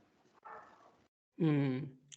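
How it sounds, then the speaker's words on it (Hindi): A dog barks a couple of times at a distance, with a short gap between the barks in an otherwise quiet setting. "किसके यहाँ पे भौंक रहे कुत्ते?"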